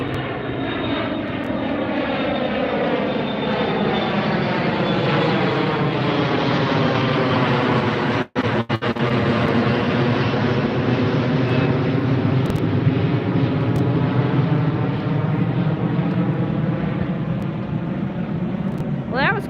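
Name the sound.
departing jet airplane flying overhead at LAX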